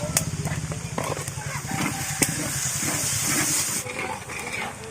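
Onions and garlic sizzle in hot oil in a pan with a steady, close, broadband hiss and crackle, plus a low rhythmic clatter throughout, while a person talks nearby.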